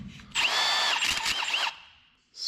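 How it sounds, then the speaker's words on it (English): A Milwaukee power drill, its clutch burned out, bores holes for C-notches on a squarebody pickup: a loud whining run of about a second and a half, a fade, then a fresh spin-up at the end. "Now the fun part, drilling all these holes out."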